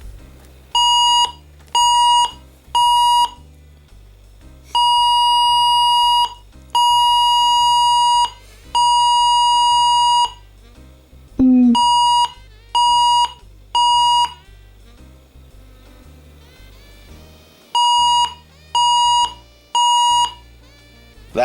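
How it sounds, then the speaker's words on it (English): The SOS alarm of a Jensen SRWS1000 emergency radio sounds, a loud electronic beep pattern of three short, three long, then three short tones, repeated, with a brief pause between cycles. "The S.O.S Alarm on the Jensen SRWS1000."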